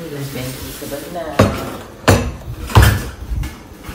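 Pots and pans clattering in a cluttered village kitchen, three sharp metallic knocks and bangs spaced about a second apart, close by, over low background murmur.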